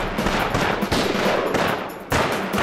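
Rapid machine-gun and rifle fire in a war movie battle scene, loud and dense bursts with brief breaks, no talking over it.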